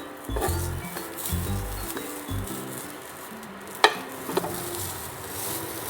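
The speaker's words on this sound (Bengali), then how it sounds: "তো আমি একটু নাড়িয়ে চাড়িয়ে একটু ভালো করে সেকে নিচ্ছি।" Food dry-roasted in a pan for an English breakfast, soft sizzling with irregular stirring scrapes and a few sharp clinks of utensil on pan, close and moderate, with no one talking.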